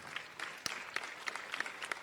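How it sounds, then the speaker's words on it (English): Scattered applause from a modest audience at a youth congress café gathering at Kigali Convention Center, a few distinct claps standing out over a thin, fairly quiet patter that lasts about two seconds. "Let's put our hands together for them. Let's clap for them."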